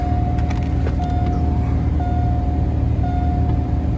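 A Ford Ranger truck engine idles steadily and loudly up close after starting, a rough low rumble with a faint whine and a few light clicks over it.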